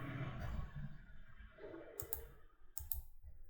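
Computer mouse clicks, a few crisp sharp taps near the microphone, separated by pauses over a faint background hum.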